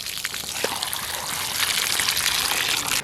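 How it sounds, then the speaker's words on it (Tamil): Chilies being washed in water make continuous splashing and trickling, with small drips and sloshes heard close up and no speech. "இதை நாங்கள் இப்போ 2-3 தண்ணியில் வடிவாக கழுவி எடுக்க போகிறோம்"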